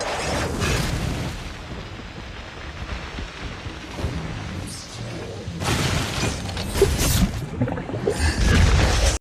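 Lava erupting from a hero's skill in Mobile Legends: a loud, rumbling boom-like burst with crackling debris, swelling again in a second heavy eruption toward the end, no voices over it.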